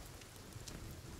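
Rain falling in the survival video game Sons of the Forest, a steady dense hiss of drops that stays even and fairly quiet throughout, with no voices.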